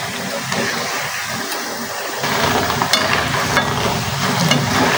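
Kue gabus dough is stirred in a pan over medium heat, giving a steady scraping and sizzling hiss that grows slightly louder partway through, with no voices.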